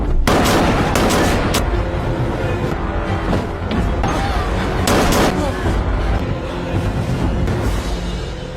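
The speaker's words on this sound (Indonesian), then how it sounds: "Rambo tiba-tiba mengeluarkan pistol dan menembak semua perompak" A rapid burst of loud gunshots cracks out at the start from a pistol fired at pirates in the film Rambo (2008), followed by more scattered shots and bangs amid a noisy, chaotic background.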